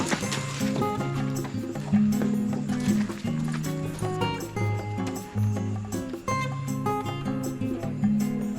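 Ridden horses' hooves clip-clop at an unhurried walking pace on a trail in Costa Rica over steady background music, the hoofbeats fairly close and continuous.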